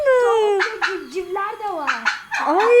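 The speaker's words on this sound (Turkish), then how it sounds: "Ne kadar çok hindi var burada" Loud turkey gobbling and yelping calls overlap from several birds close by in a village flock, rising and falling in choppy bursts.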